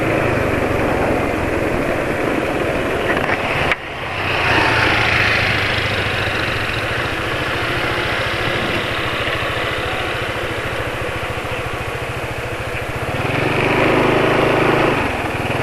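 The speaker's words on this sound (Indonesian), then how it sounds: "Begini ya suara mesinnya ya." A car engine idling after an oil change with Mesran B40 oil, a steady close mechanical hum with one brief sharp transient early on and a slight rise in pitch near the end.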